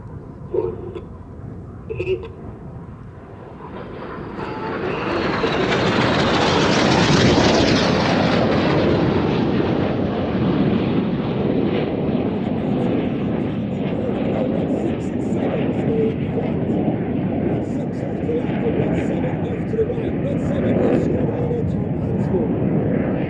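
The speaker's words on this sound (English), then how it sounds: "Each pair will now dive down to approximately 100 feet above the airfield." A pair of display jets diving low past each other over an airfield at an airshow, a jet roar swelling loud and holding as a broad sustained rumble, with a public-address commentator talking over it.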